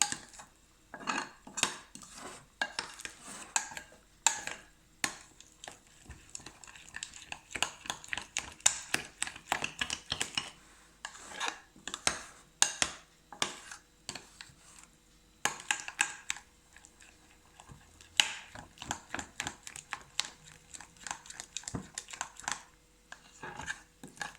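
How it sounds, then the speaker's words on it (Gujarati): Khandvi batter of gram flour stirred in a metal pan, with a spoon scraping and clinking against the pan in quick, irregular bursts and short pauses, close and clear. "હવે આપણે એને હલાવીએ છીએ. સરસ રીતે હલાવી લઈએ."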